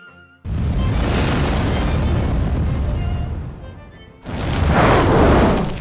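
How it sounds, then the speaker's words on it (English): A table bursting into flames during a fantasy drama party scene: a loud, sustained roaring whoosh of fire that sags briefly and then surges again even louder near the end, with no talk over it. "The table is on fire."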